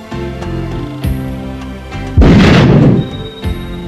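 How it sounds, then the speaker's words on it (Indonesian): A single deep, loud cartoon cannon boom bursts out midway, a heavy blast that decays over about a second, with quieter thumps and tonal background around it. "Orang guna meriam yang lain kot."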